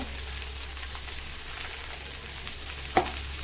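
Cabbage, ginger and black urad dal sauté in a little oil, giving a steady, soft sizzle and crackle that runs unbroken, with one brief sharp pop near the end.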